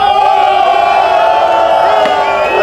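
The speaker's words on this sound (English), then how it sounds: "the bridge goes up and everyone's cheering" A loud, steady crowd roars and cheers at the start of the Patagonman 2025 race as a bridge is raised, a dense wall of voices without pause.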